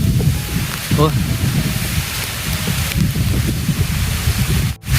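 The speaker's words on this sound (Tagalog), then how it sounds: "At ang lakas po ng hangin, parang may bagyo." Strong wind buffets and roars across the microphone with a heavy, continuous rush, gusting briefly as a voice talks underneath.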